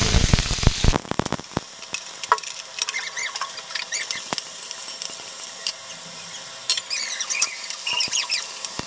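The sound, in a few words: potatoes frying with green chilli and nigella seed tempering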